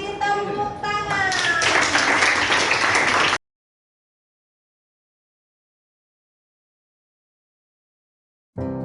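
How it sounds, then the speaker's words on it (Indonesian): Group applause in a school classroom, a dense burst of clapping with voices mixed in that stops abruptly after about three seconds, followed by silence. "buat semuanya kita kasih tepuk tangan"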